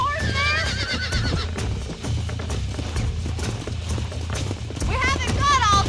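In the video game Red Dead Redemption, horse whinnies ring out at the start and again near the end, over steady galloping hoofbeats and rumbling action, with shouting voices throughout.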